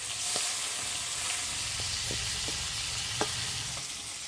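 Large pangasius fish pieces frying in hot oil in a kadai, a continuous loud sizzle with occasional sharp pops and spatters, no voices heard.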